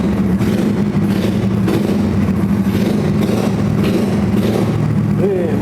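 A Ruckus concept scooter with a spiral exhaust is revved close by, the throttle blipped in several rising and falling surges over a steady deep engine rumble.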